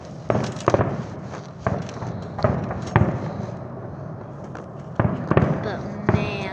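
Fourth of July fireworks thud and crack in irregular bursts, some booms distant and muffled, others sharper, over a constant outdoor rumble with someone talking in between.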